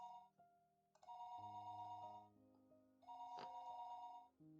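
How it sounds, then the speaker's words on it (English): A telephone in the Higurashi video game rings in two long bursts of electronic tones with a short gap between, heard alone and fairly faint. "The phone rang noisily downstairs."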